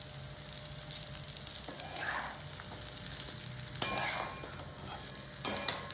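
Stuffed okra (bharli bhendi) sizzles quietly in a pan while a spoon stirs it, with soft scraping and occasional sharper clinks against the pan, no talking.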